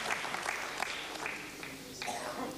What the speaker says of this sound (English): Separation of INSAT-2E has been announced, and of course there's warm applause, relief